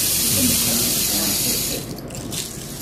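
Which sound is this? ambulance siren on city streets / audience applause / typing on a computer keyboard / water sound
water sound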